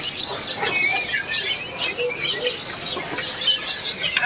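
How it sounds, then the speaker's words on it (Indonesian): A Javan drongo sings at a bird market, bright chirps and whistled phrases repeating amid a dense chorus of other caged birds chattering close by. "Sri Gunting Jawa, udah gacor"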